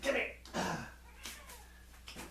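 A pet cat named Petey gives a couple of short, drawn-out meows close by, mixed with a person speaking softly in the same room.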